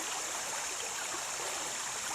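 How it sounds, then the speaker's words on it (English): A stream flows steadily along a hunting-ground trail, a soft continuous wash of water sustained at a moderate, even level with no other sounds. "I love hearing the water"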